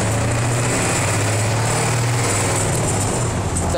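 A car engine pulls hard in second gear, a loud, steady droning roar with a sustained buzzing tone close by, holding constant without pause.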